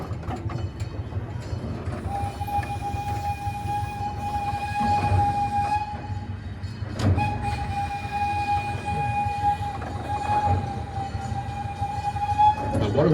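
A miniature park train rumbles and clacks along its rails, with sustained whistle-like tones sounding over the steady rolling noise.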